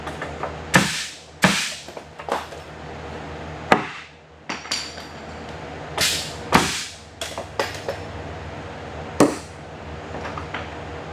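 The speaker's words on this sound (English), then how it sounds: "So we'll go ahead and nail those in." A nail gun drives nails into wooden wall framing with sharp, loud pops at irregular intervals, about a dozen shots in all, with quieter knocks and handling noise between them.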